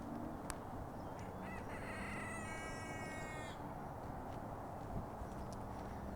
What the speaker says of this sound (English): There's a rooster cawing over there.